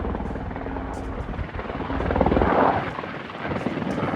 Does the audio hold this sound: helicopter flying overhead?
yes